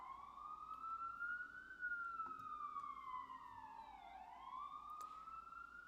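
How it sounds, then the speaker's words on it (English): An emergency vehicle siren wails through New York City streets, a clear rising and falling tone that sweeps up and down continuously over several seconds, moderately distant above faint traffic rumble. "This is why I hate New York City, because every 5 minutes there's a damn siren."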